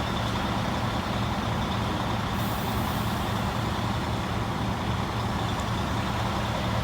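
A V8 Mack truck drives while carting house sections on a sealed rural road, its engine a steady, loud, unbroken roar heard from inside the cab with no talk.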